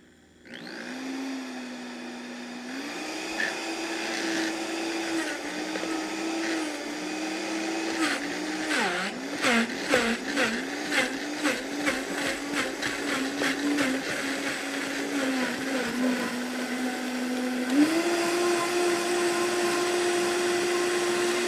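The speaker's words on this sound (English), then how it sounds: "I'm keeping it on low when I usually use the Vitamix blender, low first, so it doesn't splatter all over the place" A Vitamix blender whirs on low speed, a steady motor drone that shifts pitch a few times while ingredients knock and churn in rapid rattling bursts before the hum settles higher near the end.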